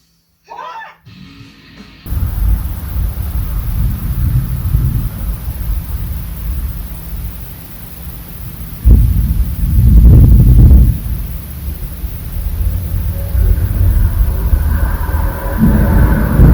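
Thunder rumbles outside during a storm, a broad low roll that swells loudly midway and lingers under steady hiss, with brief talk at the start.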